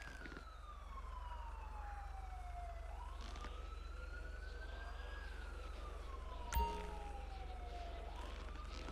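Emergency vehicle siren in the game GTA V (LSPDFR), an ambulance responding code 3, wailing in slow rising and falling sweeps over a steady engine hum, with a brief sharp click near the end.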